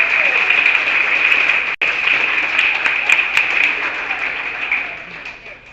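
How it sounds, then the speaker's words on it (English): A room full of people at a church gathering claps in sustained applause, a dense, steady roar of hands lasting several seconds, close and loud, with a brief dip partway through and a slow fade toward the end. "Could we give a round of applause for everyone in this room?"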